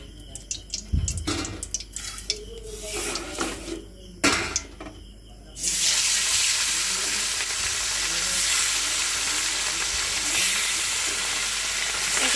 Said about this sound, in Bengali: তো মাছগুলো ভেজে নিই